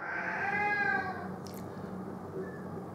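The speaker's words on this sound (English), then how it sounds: "my cat won't shut up." A house cat meows indoors in a drawn-out, wavering call, fairly close and moderately loud, over faint background noise.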